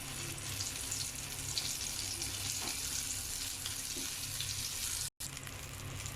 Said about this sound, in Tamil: ஆயில் வந்து நல்லா ஹீட் ஆனதும் நம்ம வந்து கட்லெட் வச்சு வச்சிடலாம்